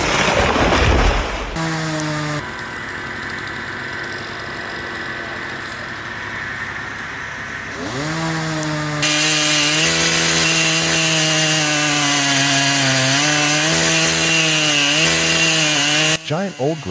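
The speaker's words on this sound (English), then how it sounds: "Workers used chainsaws to cut deep into the trunk of a large, charred tree." A chainsaw roars steadily and loud, its pitch dipping and rising as it bites deep into the trunk of a large, charred tree, with no talking over it.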